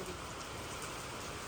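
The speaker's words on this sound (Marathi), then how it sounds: "आला काय पाऊस आलाय" Heavy rain pours down steadily over a small farm field, a dense, unbroken hiss of drops with no voices.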